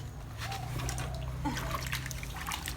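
Tubers being washed by hand in water, with steady trickling and light splashing over a constant low hum, no talk heard.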